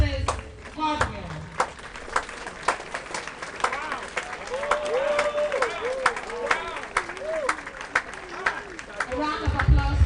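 Standing ovation at the 67th anniversary of St. John's School, Sekondi, a busy crowd of clapping hands with scattered louder claps, continuous over ten seconds, mixed with cheering voices and talk throughout.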